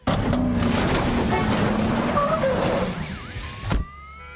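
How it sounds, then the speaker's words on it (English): A big SUV rolls in and drives over a bush, its engine and tires making a loud, continuous rumble with scraping and rustling, easing off near the end before a brief thump. "Forrest Griffin rolls into the scene in a big SUV, drives over a bush, gets out of the car"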